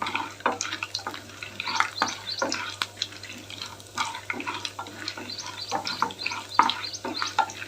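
Okra fries in oil in a pan and is stirred now and then, giving soft bursts of sizzle and scraping in uneven pulses over a low steady hum, with no talking.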